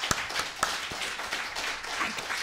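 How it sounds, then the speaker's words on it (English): A woman claps for herself, several sharp hand claps spaced irregularly at close range, with a faint murmur of voices in the background. "I clap for myself."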